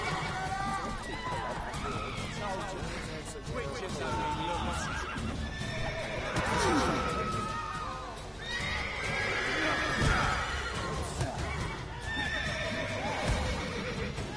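Horse neighing in The Witcher 3 video game, several loud whinnies over galloping hooves and battle noise, with a player talking over it.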